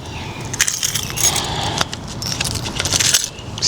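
Keys jangle and clink against a lock as one is tried in an outdoor door, a continuous metallic rattle with sharper taps, fairly close, with no talking.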